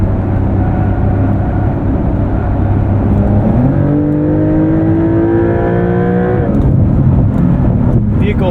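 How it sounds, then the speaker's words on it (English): A 2023 Porsche 911 Dakar switches to off-road mode and lifts its suspension, a rising mechanical whir climbing steadily over the idling engine and cabin rumble, with a voice speaking over it. "let's go to off-road mode. Lift the suspension up"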